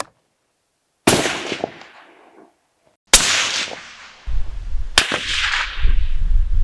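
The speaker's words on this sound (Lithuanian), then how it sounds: "šaunam vėl 3 šūvius, matuojam greitį ir po 3 šūvių matuojam temperatūrą" Rifle fired through an Ase Utra SL5i suppressor outdoors: three loud, sharp reports spaced about two seconds apart, each with a short fading tail, followed by a steady low rumble of background noise.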